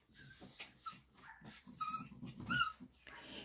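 Yorkshire terrier puppies, about one year old, whimpering and yipping in short, high whines that come in irregular bursts, close and fairly quiet, with no talk over them.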